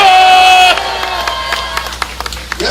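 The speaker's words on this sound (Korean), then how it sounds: "여러분, 박수!" Crowd at a Korean street rally protesting policies against small alley-shop business owners, clapping and cheering loudly after a call for applause; a speaker's amplified voice rings over the start, and the noise thins into scattered claps.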